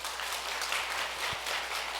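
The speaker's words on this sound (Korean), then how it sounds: "우리 환영의 박수 보내주시기 바랍니다" A church congregation gives welcoming applause during a Sunday worship service, an even, sustained patter of many hands clapping, moderately distant, with a single soft thump partway through.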